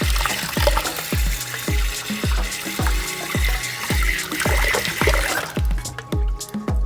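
Rinse water being poured off soaked basmati rice, a steady sloshing trickle with a regular series of soft low thumps, ending with a cleaner splash.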